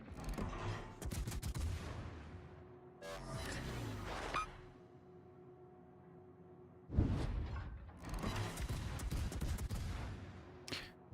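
Naval guns from a warship in World of Warships fire in heavy volleys: dense rolling salvos of booming shots, a lull with a low engine hum, then another loud burst of rapid gunfire close by.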